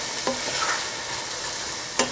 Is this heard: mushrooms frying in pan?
yes